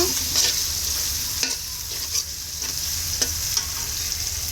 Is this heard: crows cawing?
no